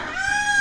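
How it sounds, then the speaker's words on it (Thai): A peacock gives a loud, close call: one sustained, brassy, nasal cry that rises slightly and holds, heard outdoors near a temple in Sakon Nakhon, Thailand. "อันนี้คือเสียงนกยูง"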